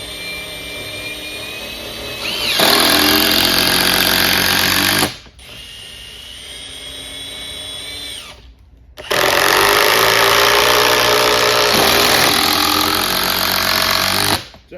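A DeWalt power drill with a Phillips bit drives a 3-inch screw into wood in two loud, sustained whirring bursts, the motor labouring and pitch shifting as the screw bites, separated by a short pause, close and without speech.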